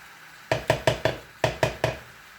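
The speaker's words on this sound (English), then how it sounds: "Chop it all up there in the pan. So we're going to get that cooking." Pampered Chef chopper tool striking down on ground beef in a skillet, seven sharp knocks in two quick bursts, close and distinct with no talk.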